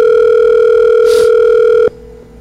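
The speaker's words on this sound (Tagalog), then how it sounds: "nagre-ring na yung kanyang telepono" A telephone ringback tone sounds on an outgoing call, a steady loud tone holding for about two seconds before cutting off, with a brief faint noise partway through and quieter background hum afterward.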